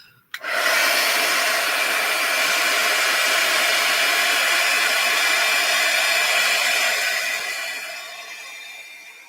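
A hair dryer switches on abruptly and blows steadily for about nine seconds, drying a page of a junk journal; the loud, close whooshing hum stays even, then tapers slightly near the end, with no talking.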